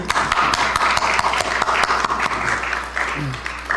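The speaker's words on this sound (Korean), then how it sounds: "박수 한번 쳐요" Church congregation clapping together during a Sunday worship service, a dense burst of hand claps with a low voice speaking faintly underneath, ending with a few scattered claps.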